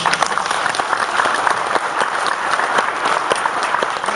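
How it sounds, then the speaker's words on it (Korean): Lecture audience at a Hanyang University talk by a political party leader breaks into a dense, steady round of applause, many hands clapping at once and filling the room evenly for several seconds. "그래서 박수 한번 크게."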